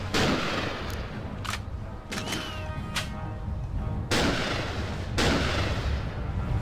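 Several sharp sniper rifle shots from the video game TimeSplitters Future Perfect, spaced unevenly over a steady background of game noise, each a loud crack with a short tail.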